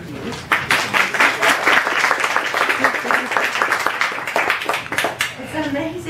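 Audience clapping for a young girl after her music lesson performance, steady dense applause filling the room for several seconds with a few voices and cheers mixed in.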